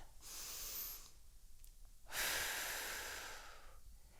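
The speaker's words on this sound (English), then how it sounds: "Really open up, big deep breath." Two slow, deep breaths during a seated chair aerobics workout, each a soft airy draw lasting about a second, close and quiet, with a brief pause between them and no talking.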